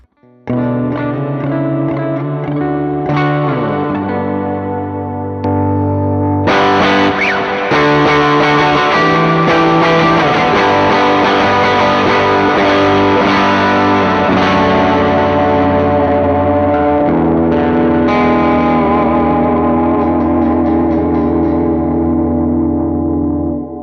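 Electric guitar played through a Meris Mercury X effects pedal preset, lush sustained chords swelling with heavy reverb, echo and modulation, loud and continuous with dense shimmering tails throughout.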